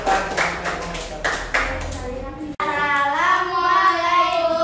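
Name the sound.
applause for a group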